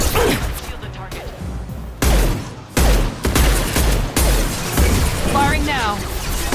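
Gunfire and impacts from Mass Effect 2 Legendary Edition combat, with repeated loud bursts and crashes over a constant battle din, a voice speaking through part of it.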